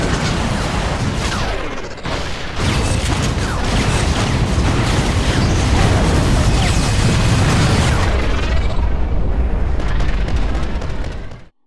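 Chaotic action from the video game Vanquish during boost dodging: dense rumbling blasts, whooshing rushes and mechanical bursts pile up continuously, loud and busy, fading out at the end.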